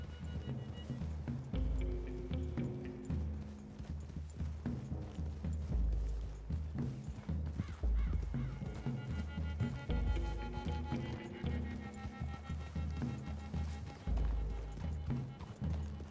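Horses' hooves tramping through trees in Red Dead Redemption 2, a continuous run of rhythmic thuds and clip-clops with rustling, fairly close.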